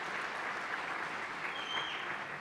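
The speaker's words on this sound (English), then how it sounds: "let's give them a round of applause as well" Audience at a Berks County celebration kickoff event at the Miller Center applauding school board members: even, continuous clapping from a crowd, soft and somewhat distant, with a faint high tone near the end.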